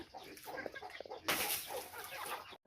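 Pet chickens cluck and mutter close by in short, irregular bursts, with a sudden louder flurry partway through that could be wings or a scuffle, then the sound cuts off abruptly.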